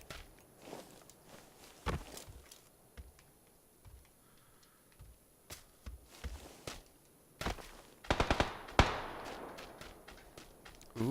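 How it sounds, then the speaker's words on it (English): Footsteps and distant gunfire in the PUBG video game, with scattered soft steps and sharp cracks, ending in a quick burst of louder shots. "Somebody was firing up there."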